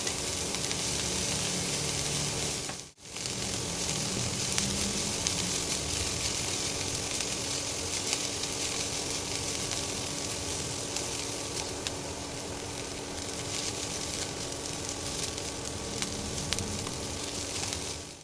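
Onions frying in a pan while cooking an egg and okra (vendi) dish, a steady close sizzle running unbroken, with a brief dropout near the start and no talking.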